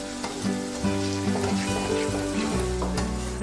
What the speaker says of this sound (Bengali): এবার আমি এর মধ্যে দিয়ে দিচ্ছি আদা আর রসুনের পেস্ট।